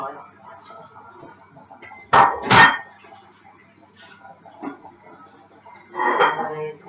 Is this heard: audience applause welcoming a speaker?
no